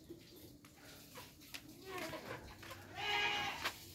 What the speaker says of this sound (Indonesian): Kambingnya itu juga sudah teriak-teriak minta makan, teman.